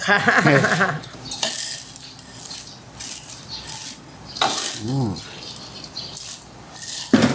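Crispy fried noodles (mee krob) tossed and mixed in a pan, with spoon-on-pan clatter and scraping, loud and close, interspersed with voices talking.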